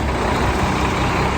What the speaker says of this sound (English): a 370 horsepower Cummins M11 turbo diesel that starts right up and sounds great